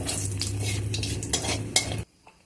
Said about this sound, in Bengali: দিয়ে দিলাম কালো জিরে ফোড়ন, তেজপাতা আর দুটো শুকনো লঙ্কা।